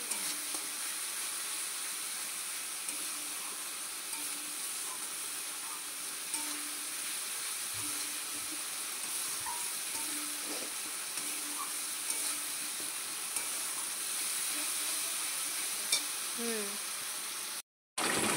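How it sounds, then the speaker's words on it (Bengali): Chicken fries in oil in a pan for kosha, a soft, steady sizzle with occasional stirring scrapes, quiet and close. "তো দেখো এখানে চিকেন রান্না হচ্ছে, চিকেন কষাচ্ছে"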